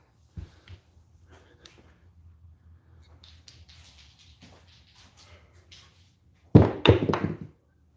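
Dice land on a casino craps table with a sharp clatter and brief tumbling knocks near the end, after a stretch of quiet room noise with faint background voices.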